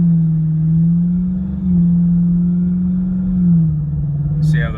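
A modded Dodge Charger R/T pulls away from a standstill, its engine a loud, close, low drone holding fairly steady with slight shifts in pitch.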